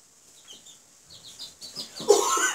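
Baby chickens cheeping in a series of short, high peeps scattered through the moment, growing busier and louder toward the end, close by.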